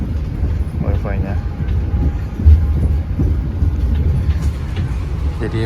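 KA Taksaka executive train running from Gambir to Jogja, a steady low rumble of the rolling carriage heard from inside, with a person talking over it throughout.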